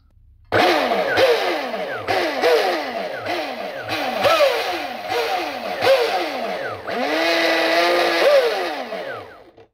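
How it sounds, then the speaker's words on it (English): High-precision electric motor in an RC boat, a Wild Thing, spun up on a LiPo battery: repeated whining bursts that rise and fall in pitch, loud and close, ending in a longer sustained spin. "I will now connect the LiPo and spin the motor to see if this runs more smooth."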